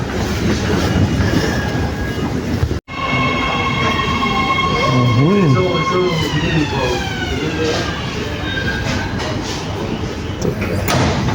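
A commuter train rolls along the rails in a loud, steady rumble heard from inside, with brief squealing tones of wheels and motors rising and falling, and a short dropout partway through.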